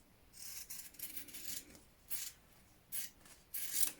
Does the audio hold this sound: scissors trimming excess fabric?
yes